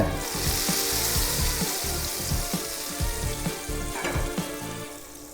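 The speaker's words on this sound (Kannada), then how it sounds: "ಇಲ್ಲಿ ಆಗ್ತಾ ಇರುವಂಥ ಒಗ್ಗರಣೆ" Tempering spices crackle and sizzle loudly in hot oil for jackfruit payasam, a steady close frying hiss with light stirring taps throughout.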